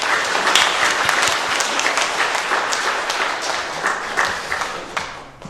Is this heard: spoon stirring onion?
no